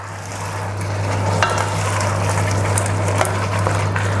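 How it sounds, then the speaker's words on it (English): Meat and its juices go back into a hot braising pan, giving a steady, loud sizzle and frying hiss with faint stirring scrapes throughout. "back in with our meat and any juices that are in the pan as well"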